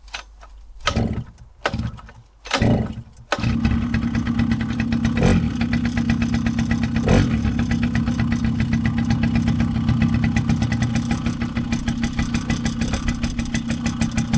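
A 26-year-old Suzuki LT50 ATV with the choke on is pull-started, sputtering in three short bursts before catching and settling into a loud, steady close idle with small rises in revs.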